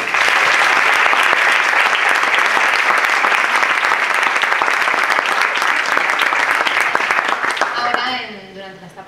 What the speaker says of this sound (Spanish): así que un fuerte aplauso para ellos